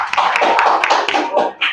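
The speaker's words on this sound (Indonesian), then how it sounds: "Mari kita beri tepuk tangan untuk kelompok 2." A classroom audience claps for a student group after its presentation at a teaching-practice session, the claps loose and overlapping throughout, with some voices mixed in.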